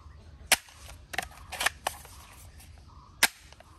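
A toy airsoft gun fires a handful of sharp, snappy pops at irregular intervals, close and fairly loud over a low background hum.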